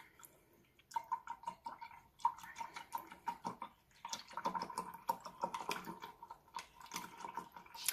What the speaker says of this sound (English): I'm just going to wash the brush out